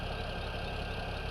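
A tractor engine idles steadily in the Farming Simulator 17 video game, a low, even mechanical drone with no changes in pace or speed.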